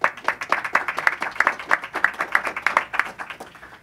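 An audience applauds hospital physicians and staff at a public health briefing, a steady patter of many hands clapping close by for several seconds with no talk over it.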